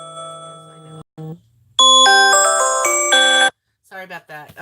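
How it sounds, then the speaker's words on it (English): A phone alarm goes off with a bright, loud, repeating electronic chime melody, preceded by a person talking and followed by brief speech after it stops. "That's my alarm. I'm sorry."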